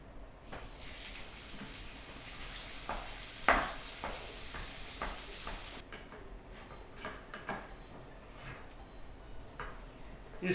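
Grated potato being stirred and roasted in a pan for aloo halwa, giving a soft, steady sizzle with scraping strokes and a few louder clanks, continuous and close.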